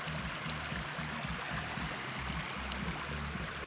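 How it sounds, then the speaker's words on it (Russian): Small river flowing near its little delta where it enters the Sylva, a steady close rushing murmur of water with no voices. "Рядом с ней протекает небольшая одноименная река, у которой есть даже маленькая дельта при впадении в Сылву."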